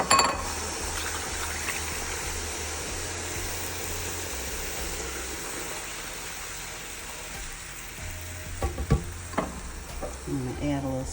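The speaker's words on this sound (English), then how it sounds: "Now I'm going to deglaze this pan with some broth." Broth poured into a hot short rib pan sizzles steadily and close, a continuous frying hiss with faint stirring clinks and scrapes toward the end.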